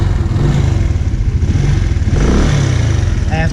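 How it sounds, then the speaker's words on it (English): A 125cc motorcycle engine running steadily, a loud close chugging idle that fills the whole stretch with a slight rise in pitch near the end, with a voice talking faintly over it. "at least I'm very pleased with the way it's starting up now"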